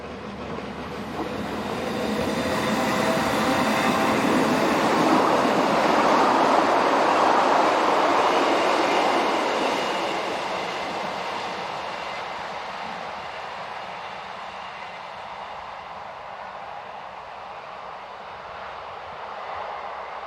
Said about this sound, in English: we see unit number 4004 departing with the 1258 departure west